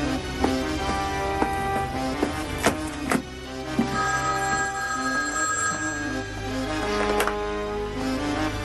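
A telephone rings with repeated electronic bell bursts, steady and fairly close, over a faint background hum as a call is placed to Mexico.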